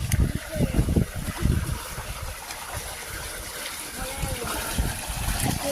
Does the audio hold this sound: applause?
no